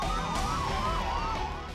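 A wailing emergency siren rises and falls steadily during an earthquake mock drill in Delhi-NCR, loud and continuous over a dense traffic rumble.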